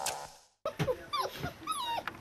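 A Laika hunting dog gives a quick series of high yips and whining yelps, close and fairly quiet, after a brief pause.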